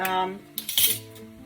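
A spoon clinks and scrapes against a pan while a stuffed pepper filling is swirled around, a short burst of metallic stirring heard close up.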